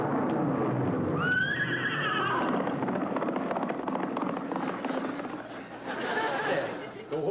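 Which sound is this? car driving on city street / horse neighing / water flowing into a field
horse neighing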